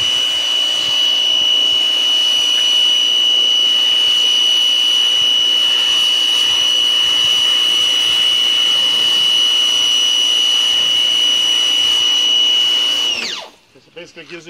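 A Simoniz compact electric pressure washer rinsing a vehicle with a 40 degree spray pattern, its motor whining steadily and loudly for about thirteen seconds before cutting off abruptly.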